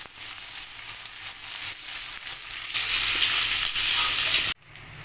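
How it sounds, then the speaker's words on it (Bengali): Green chillies sizzle and fry steadily in a pan for chilli paneer, a continuous broadband hiss that swells louder partway through before cutting off abruptly near the end. "এবার এটা আমি ফ্রাই করতে একটু সময় দেবো"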